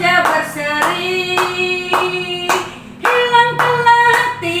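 Children at a school morning worship service clap their hands to a hymn, with rhythmic bursts of claps over sustained tonal singing and music.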